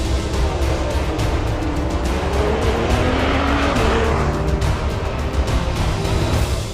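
Audi and Peugeot race cars roar away together at the start of a 24-hour endurance race, a loud continuous engine din with rising revs and tire squeal throughout, no talk over it.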